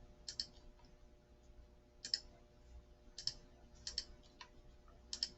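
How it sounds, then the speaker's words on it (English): Computer mouse clicks come through sharp and fairly close in a quiet room, a handful of isolated clicks and quick double clicks spaced about a second apart over a low hum. "Got to make sure you're clicking on the right one."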